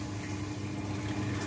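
A Bubble Magus Curve 5 protein skimmer runs in about nine inches of aquarium water, giving a steady, even watery hiss and bubbling hum with no pauses.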